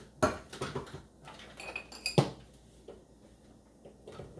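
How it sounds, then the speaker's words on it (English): A can of Manwich sauce is opened, with sharp metallic clicks, scrapes and clinks of the opener on the lid coming in short irregular bursts, close by. "let's go ahead and open up the manwich can"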